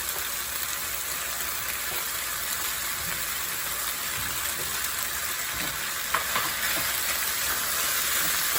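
Pepper and onion frying in a pan for lemongrass chicken, a steady, loud, hissing sizzle that runs unbroken throughout, with a faint clink or stir near the end.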